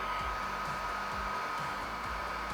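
A heat gun blows hot air on vinyl wrap being folded over the edge of a Cybertruck frunk, a steady close whooshing hiss with a constant whine, with no talking.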